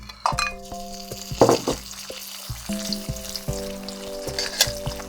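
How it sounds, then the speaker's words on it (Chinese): Smoked cured pork (larou) stir-frying in hot oil in a heated wok, crackling sizzle punctuated by several sharp metal spatula scrapes and clinks against the pan, close and without any voices. "转中小火，先把腊肉炒香。"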